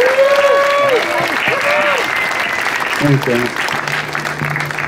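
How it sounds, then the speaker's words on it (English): Audience applause at an evening art event, a loud, sustained clapping crowd close by, with a voice briefly speaking over it. "let's give Jon a round of applause"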